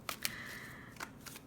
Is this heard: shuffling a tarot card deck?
yes